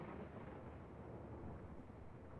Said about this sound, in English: The rogue thunder rumbled across town, echoing off the skyscrapers.